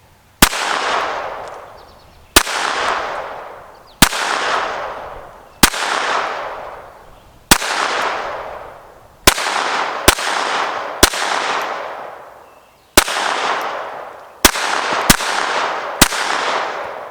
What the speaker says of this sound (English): Now we'll do the same thing with the Remington Golden bullets, except I'm shooting at the top right hand circle target